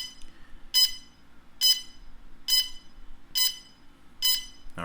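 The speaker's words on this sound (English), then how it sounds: "Now the Phantom will usually beep during this process." A DJI Phantom drone beeps during a firmware update, giving five evenly spaced bright electronic beeps about a second apart, each short and clear against near silence.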